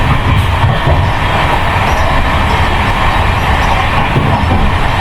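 The Rajdhani Express, a premium long-distance train running from Kolkata to New Delhi, makes a loud, unbroken rumble and rattle of wheels on track, heard close as if from on board, with no voices.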